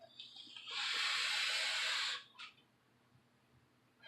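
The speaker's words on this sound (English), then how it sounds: "you push your fire button, and this thing's already sizzling before you can get it to your mouth" A loud, steady sizzling hiss from an e-cigarette coil fired at 80 watts on a SMOK Mag lasts about a second and a half, then cuts off, followed by a brief softer hiss and quiet.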